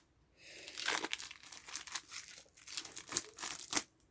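Plastic wrap crinkles and tears as it is pulled off tightly wrapped cards from a GMT Games board game, a run of soft crumpling and ripping bursts heard up close and quiet.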